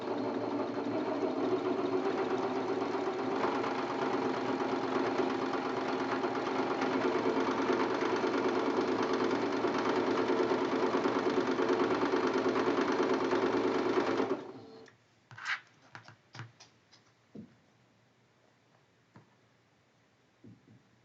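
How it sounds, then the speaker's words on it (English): A sewing machine runs fast and continuously for about fourteen seconds while stitching quilt block seams for a traditional pinwheel quilt, then stops, leaving a few soft handling clicks and taps in near quiet. "I'm going to go sew these seams and then press them"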